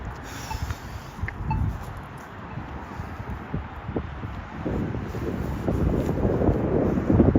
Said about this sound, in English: I don't have mics that I can use to actually like avoid all the wind